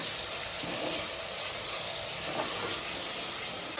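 Masala sizzles and fries in a pan for a horse gram chicken curry, giving a steady, even hiss close by without a break.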